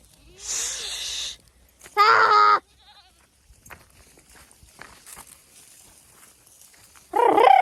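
Two or three loud, nasal bleats from nearby goats, separated by pauses, with faint rustling and shuffling in between.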